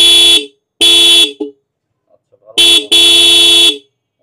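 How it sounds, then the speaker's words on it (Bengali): New WORNTY dual motorbike horn pairing high and low tones, blasted loud and close in short bursts: two separate honks, then a brief one and a longer final blast, with quiet gaps between. "দুইটা হর্ন থাকে, একটার সাউন্ড থাকে হাই, একটা সাউন্ড থাকে লো, অর্থাৎ একটা মোটা একটা চিকন।"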